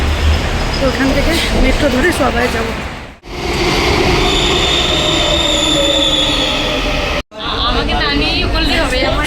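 Metro train running in Kolkata, a loud, continuous rumble with wheel squeal heard from inside a carriage, with two brief dropouts and faint voices mixed in.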